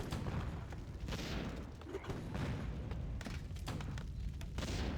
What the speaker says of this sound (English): Mortar team is now doing damage to his own units and structures.